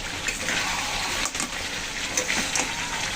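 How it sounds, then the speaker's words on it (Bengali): Water pours into a pot of spicy crab bhuna curry on the stove, making a steady, soft, hissing gush with faint bubbling and sizzling throughout. "এখন জল দিয়ে দেবো।"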